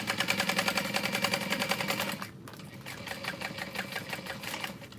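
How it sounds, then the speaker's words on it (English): A sewing machine back stitches over the slip pocket of a messenger bag, a rapid, close mechanical chatter that runs fast for two seconds, stops briefly, then resumes at a slightly softer, steady pace. "I'm going to back stitch over that slip pocket"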